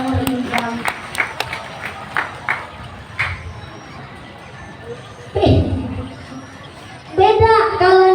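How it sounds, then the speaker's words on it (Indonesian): Scattered clapping from a crowd at an Islamic women's gathering in Sialang Rindang, several sharp claps early on that fade out, then voices and a loud shout follow, with children audible in the background. "Tepuk tangan dulu dong buat muslimat sialan rindang."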